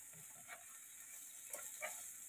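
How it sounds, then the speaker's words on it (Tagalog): Shrimp paste (bagoong) sautéing with cooked tomatoes in a pan gives a steady soft sizzle, with a few brief stirring scrapes rising above the hiss. "So, igigisa ko yan dyan."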